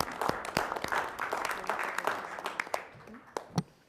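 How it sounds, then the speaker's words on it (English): Workshop participants at a township strategic planning session break into a brief burst of applause that thins to scattered claps, with a voice speaking faintly near the end. "now we can clap."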